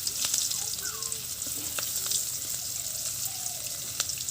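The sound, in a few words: chopped onions frying in oil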